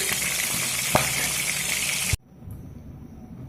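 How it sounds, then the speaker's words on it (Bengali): Chicken pieces frying in hot oil, a loud continuous sizzle with a single sharp clack, then cutting off abruptly into near silence. "বাকি চিকেনগুলো একইভাবে ভেজে নেব"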